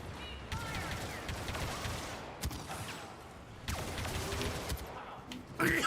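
Blaster and weapon fire in a Star Wars video game battle on Naboo, with rapid repeated shots in several loud bursts and pauses, plus a few brief voice sounds between them.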